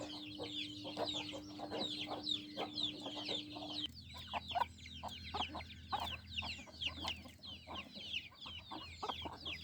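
Hens cluck and chicks peep busily in a poultry yard, close by, with overlapping soft clucks and rapid high cheeps in irregular bursts and a faint steady hum underneath.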